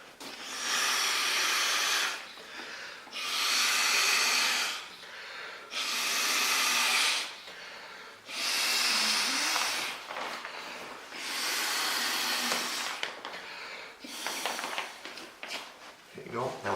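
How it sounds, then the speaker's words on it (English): Six long, forceful breaths blown one after another into the valve of a TNH Outdoors inflatable sleeping pad, each a loud, close airy rush separated by short pauses for inhaling. "let me inflate it for you and just show you how easy it is"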